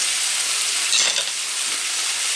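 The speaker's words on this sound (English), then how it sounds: "Okay, I'm going to brown the hamburger." Ground hamburger meat browning in a hot pan, a steady bright sizzle with crackling fat, close and continuous, with a brief surge of spatter in the middle.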